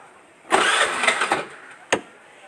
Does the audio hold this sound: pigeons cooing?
no